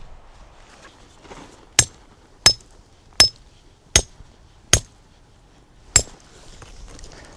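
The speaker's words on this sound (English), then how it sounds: "That feels so weird to hammer on hammer." A rock hammer struck against another hammer, six sharp metallic clanks spaced roughly evenly, with a brief ring after each, close up in a quiet space with no talking.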